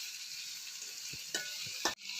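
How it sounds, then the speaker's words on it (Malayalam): Onion and green chilli sautéing in a pan give a steady, even sizzle, broken by two or three brief scrapes of a spoon against the pan near the end. "രണ്ടും കൂടെ ഒന്നിച്ച് നന്നായി ഒന്ന് വഴന്ന് വരട്ടെ."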